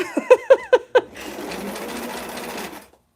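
A sewing machine stitches a Barbie square dance dress, opening with a few quick rising tonal chirps before settling into a steady whirring run of about a second and a half that stops cleanly.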